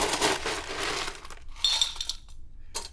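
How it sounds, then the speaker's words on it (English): Ice rattles and clinks against a chilled stemless martini glass in a bar setting, with a bright crunching rush followed by a few sharper glassy clinks close by. "So we're gonna start off first with our stemless martini glass."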